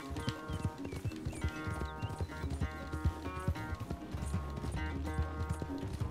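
Horses clip-clopping at a hard gallop during a race in the video game Red Dead Redemption 2, a steady busy hoof rhythm over layered game music and effects throughout.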